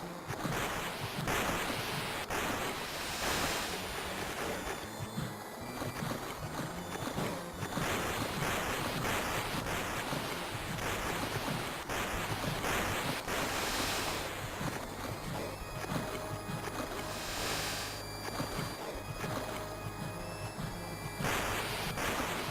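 Rushing water in the Demon's Crest video game, a loud, continuous surging roar like heavy surf that rises and falls in broad swells throughout, with no voices over it.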